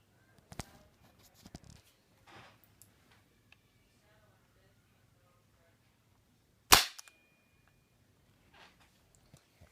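An airsoft gun fires one sharp, loud snap amid near silence, with a few faint clicks and small handling noises before and after.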